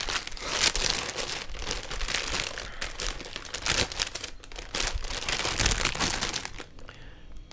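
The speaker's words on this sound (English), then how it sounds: "plastic bag noise was too heavy" Plastic bag crinkling and rustling up close, in continuous bursts of handling for several seconds before trailing off, with no voices.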